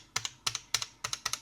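A dk'tronics add-on keyboard for the ZX Spectrum, keys tapped in quick paired clicks at a steady rhythm, close up and fairly quiet, with no talk.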